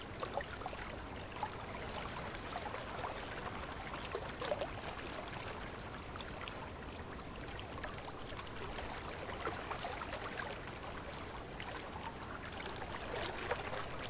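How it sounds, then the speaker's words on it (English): A flowing river in an outdoor natural setting, a steady broadband rush and trickle of water that stays even and continuous throughout, with no voices present. "You listen to the sounds of the river and the surrounding nature"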